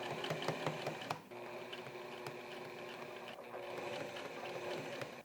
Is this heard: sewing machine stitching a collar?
yes